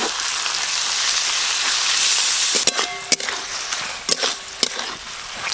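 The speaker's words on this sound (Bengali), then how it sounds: "আর আদা রসুন বাটা একসঙ্গে ভালো করে ভাজবো।" Ginger garlic paste frying in a hot pan, a dense steady sizzle with a few sharp clinks and stirring knocks from a utensil toward the end.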